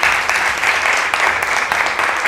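Applause from a conference audience in a hall at the Ateneo, steady dense clapping filling the whole stretch at fairly close range with no clear break.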